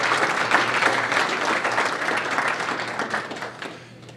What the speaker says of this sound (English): a round of applause for Jonathan for being the one that brought this all here